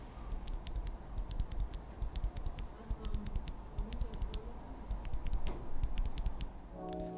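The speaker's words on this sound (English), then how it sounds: "Now this is what one of them sounds like lubed. And now unlubed." Banana Split mechanical keyboard switches pressed one at a time, lubed and then unlubed, giving crisp, close clacks in quick rhythmic bursts with brief pauses between groups.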